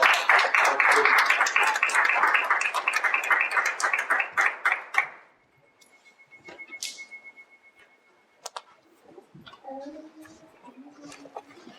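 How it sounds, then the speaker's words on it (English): An audience at a Malcolm X Memorial Foundation event claps in a strong round of applause that stops abruptly, followed by quieter room noise and a voice beginning to speak. "So if we can give him a good round of applause."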